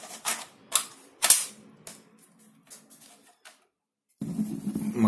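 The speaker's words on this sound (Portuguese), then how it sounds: "Vou fazer uns disparos aqui para a gente testar." A few sharp snapping shots from a spring-powered mini airsoft rifle, spaced irregularly with mechanical clicks between, followed by a brief handling noise.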